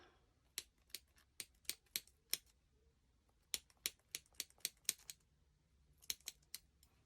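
Sharp scissors snip through yarn in quick, close, crisp clicks, several rapid cuts in a row, a pause, then another run of snips, all quiet and without talk.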